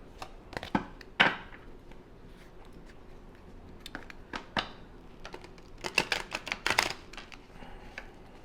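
A new Murder of Crows tarot deck being shuffled by hand, crisp irregular card riffles and slaps in short bursts with pauses between, close and fairly quiet.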